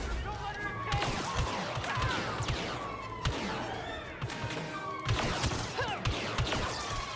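Blaster gunfire from the Star Wars Battlefront 2 video game, bursts of rapid zapping shots in clusters with crashing impacts, mixed with game chatter and a voice in the background.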